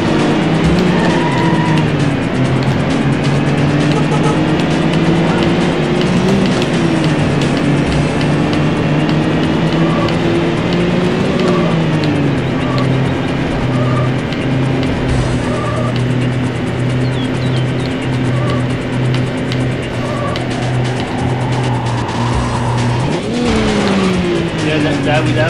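A race car engine in the video game Need for Speed: High Stakes roars continuously at high revs, with pitch rising and dropping through gear shifts and tires squealing, while voices talk over it throughout.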